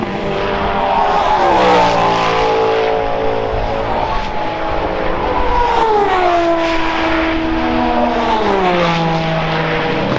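High-revving Cadillac and Aston Martin Valkyrie hypercar engines roar past loudly on a race track, their pitch sweeping up and down as they accelerate and shift, with a continuous howl of traffic.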